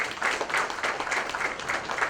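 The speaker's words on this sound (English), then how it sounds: "Can we have a big round of applause for sir," Audience applause for a guest at a tree plantation launch event, a steady patter of moderate clapping that swells in light pulses, with no talking over it.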